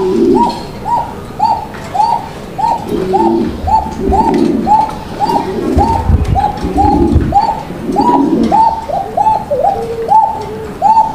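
Black Bashiraj Koka pigeon cooing close by in a repeated, rhythmic series of soft, throaty coos that runs throughout, with no talking.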